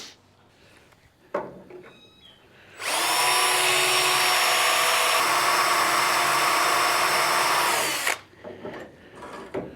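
A power drill bores a pilot hole into the core of a bolt during bodywork on a Chevy COE truck cab. The drill whines loudly and steadily for about five seconds, with a shift in pitch partway through, after quieter handling noises.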